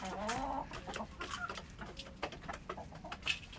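Backyard chickens clucking in a garden coop with nesting boxes, a small flock giving repeated close, overlapping clucks and short calls.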